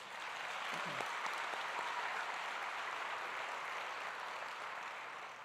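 Steady, moderately distant applause from a graduation ceremony audience for a wind ensemble and vocalists, an even wash of clapping that continues throughout and fades slightly at the end.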